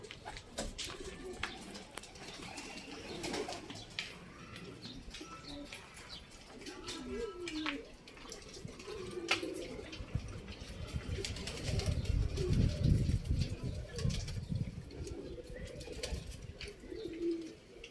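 Rooftop pigeons coo softly in low, repeated throaty calls amid scattered clicks and background chatter, with a brief flutter of wings.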